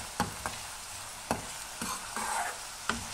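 Green gram (moong) frying in a pan for a curry while being stirred, with sharp intermittent scrapes and clatters of the spoon over a low, steady sizzle; close and fairly quiet, with no talking.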